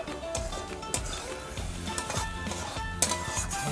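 Ground tomato being stirred in a hot cooking pan, giving soft repeated scraping and sizzling with occasional light clinks of a utensil against the pan, close and steady.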